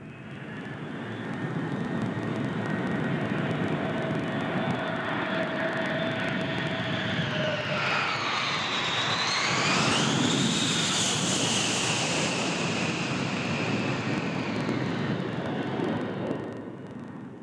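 A Fokker 100 jet airliner in a computer simulation roars steadily through takeoff, its broad engine noise holding loud for the whole stretch with a rising, shifting whine midway and no voices.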